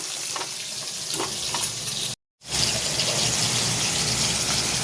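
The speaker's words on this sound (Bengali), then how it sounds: "এই যে ইলিশ মাছের মাথা ভাজা হচ্ছে এই কড়াইয়ে" Hilsa fish heads frying in a wok, a dense continuous sizzle heard up close with faint spatters, broken by a brief moment of silence before the hiss returns at full strength.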